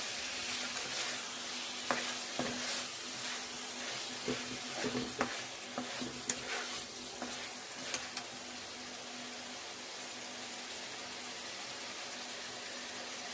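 Tomatoes go into a hot frying pan for a shati fish curry, a continuous sizzle with scattered clinks and scrapes of stirring that settle into an even hiss.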